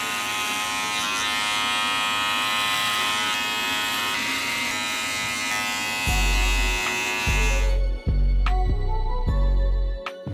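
A Gamma electric shaver runs close and loud as it cuts the bulk of hair down for a high fade buzz cut. The steady buzz holds without a break, then rises and falls in short strokes as it moves over the head.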